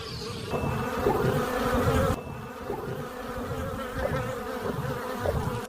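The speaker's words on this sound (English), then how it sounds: "fleeing the relentless assault of the ground bees." A dense swarm of ground bees buzzes steadily and loudly throughout, a thick droning hum with no voices.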